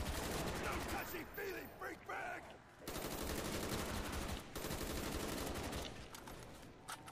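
An RPK machine gun fires in Call of Duty: Black Ops Zombies on the Shangri La map, with loud, close bursts of rapid automatic fire broken by brief pauses.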